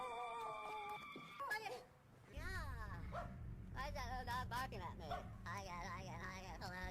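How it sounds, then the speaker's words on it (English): A dog barks and yips in a series of sharp, pitched calls with some whimpering tones between them, fairly close and prominent over a low background hum. "Why is that dog barking at me?"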